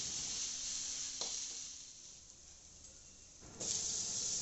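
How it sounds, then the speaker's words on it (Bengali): Kashmiri chilli powder and ground coriander fry in a pan for paneer butter masala, giving a steady close sizzle with brief scraping stirs, a louder burst of hiss near the end. "এবার একটু ভালো করে নাড়িয়ে নিলাম।"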